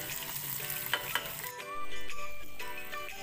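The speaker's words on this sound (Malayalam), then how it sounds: "പിന്നെ ഈ ഉള്ളി മൂത്ത് കഴിഞ്ഞാൽ നമുക്ക് കറിയിലേക്ക് യൂസ് ചെയ്ത് കൊടുക്കാം." Onions and curry leaves frying in a pan for a Kerala papaya and koorka curry give off a steady, soft sizzle, with a few light stirring clinks and scrapes near the start and no talk.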